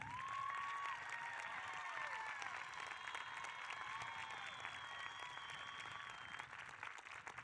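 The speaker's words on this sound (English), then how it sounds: "Let's give them a big round of applause." A high school graduation crowd applauds faculty and staff with a long, steady round of clapping from many hands, with faint cheering and some tonal sounds mixed in, gradually easing toward the end.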